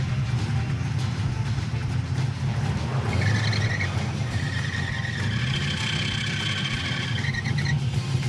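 A 1967 Pontiac Firebird engine idles with a steady low rumble and an uneven warble, running close and continuous with no talk.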